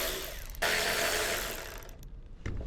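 Ratchet backing out the tailgate bracket bolts on a Ford Maverick, a close mechanical whirring clicking that runs steadily for a couple of seconds, then stops before a short final burst.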